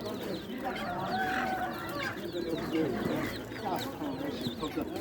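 Chickens clucking at a poultry market in Osmaniye, a dense chorus of overlapping clucks and squawks from many birds, with people talking in the background.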